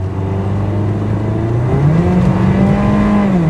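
A BMW E36 318i four-cylinder engine floored at full throttle, loud and close, its note climbing steadily toward a high-rpm howl with no voices.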